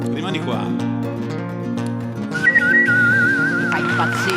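A man whistles the theme from the film A Fistful of Dollars, a clear, sustained wavering melody over a full orchestral backing track, loud and close.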